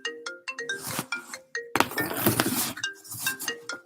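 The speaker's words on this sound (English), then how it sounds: "Somebody's calling me" An incoming phone call's ringtone plays as a bright, repeating melodic chime pattern, close and loud, with a clattering burst partway through.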